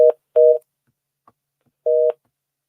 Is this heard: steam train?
no